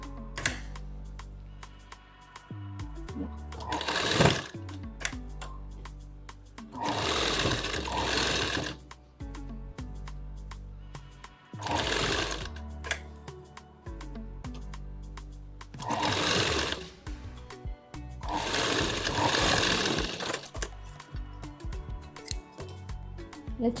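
A sewing machine stitches an off-shoulder designer blouse for a lehenga in several loud, close bursts of rapid mechanical clatter, separated by quieter pauses with fabric handling and clicks.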